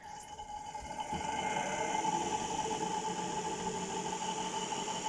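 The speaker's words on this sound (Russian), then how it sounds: "Реостат. Включаем мотор." A Webasto heater motor, run without its control board, switches on and settles into a steady, faint electric whine with a constant hum, running alone.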